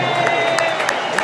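A dense football stadium crowd at an Arsenal versus Newcastle match roars steadily, with scattered claps and cheers rising briefly above the wash of noise.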